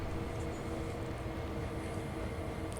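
A freight train hauled by big locomotives passing in Train Sim World 2 on Sand Patch Grade, a faint, steady low rumble with no distinct events.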